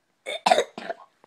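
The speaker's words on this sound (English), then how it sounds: "He has the coughs." A child gives three quick, close coughs in a row, the middle one loudest, followed by a short, softer throat sound, all against silence.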